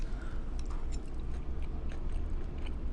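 Close-up crunchy biting and chewing of a dish of leek, Gouda and peanuts, a string of crisp crackles over a low steady chewing rumble, with no talking.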